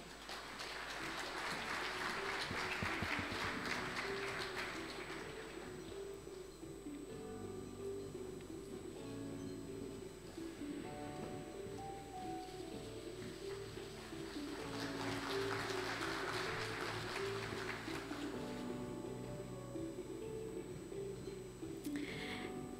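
An audience at an Asian business leaders' conclave applauds as an executive is welcomed on stage, with steady, soft clapping that swells twice over about twenty seconds, heard from a distance in a large hall.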